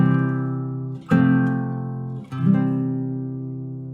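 A guitar plays a tonic chord ornamented with a second-inversion 6/4 chord: three sustained strummed chords with soft attacks, ringing alone at moderate volume with no talking.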